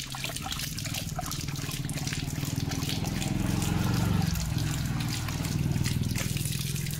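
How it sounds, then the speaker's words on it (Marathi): Water trickles and runs steadily from a broken tap, a continuous close splashing flow with a faint voice murmuring in the background. "ते बघा लिओनी परत नळ तोडलाय."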